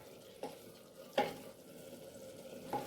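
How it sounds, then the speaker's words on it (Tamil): Wild greens with onion, tomato, salt and coconut oil are mashed in a pan, giving three soft scraping strokes over a faint sizzle. "அடுத்தது கடைய வேண்டியதான்"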